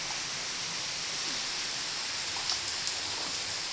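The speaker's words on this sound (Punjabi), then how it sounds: "ਮੈਂ ਉੱਠ ਕੇ ਦੇਖਿਆ ਬਾਹਰ ਮੀਂਹ ਪੈ ਰਿਹਾ" Steady, even hiss of rain falling outside, with a couple of faint drips standing out near the end; no voices.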